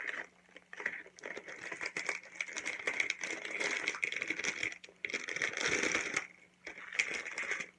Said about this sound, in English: So we're going to break a couple squares off here.